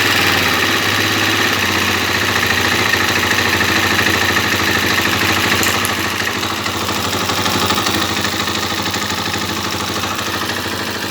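A Gilera YL 200 motorcycle idling after sitting unused for a while, its carburettor idle being adjusted: a loud, steady, close putter with a constant mechanical rattle and no voices.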